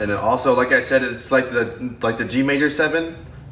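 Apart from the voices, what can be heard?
No everyday noises stand out.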